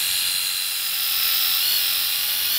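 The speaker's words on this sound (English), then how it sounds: "This is a Rupes Nano, little baby 1-inch polisher." A Rupes Nano 1-inch polisher runs while refinishing scratched hi-fi speakers, giving a steady, close, high-pitched whir that does not vary over the whole stretch.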